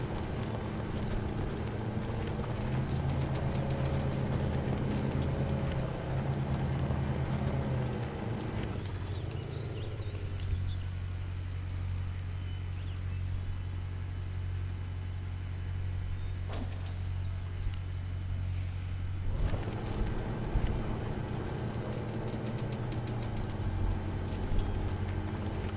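Toyota Land Cruiser engine straining while off-roading in the Spin Tires video game, a steady low droning growl that drops in pitch partway through, then holds, continuous and fairly close with no talking.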